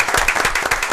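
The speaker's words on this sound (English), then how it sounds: "let's give him a round of applause" Clapping breaks out in the room at a town council meeting in Fort Mill, a brief burst of many hands applauding fairly close, without talk over it.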